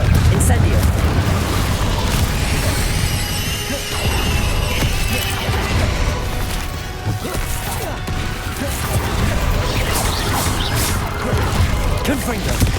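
Confringo fire spells exploding in the Hogwarts Legacy video game: repeated close booms and crashing impacts over continuous combat noise, with shouted voices throughout.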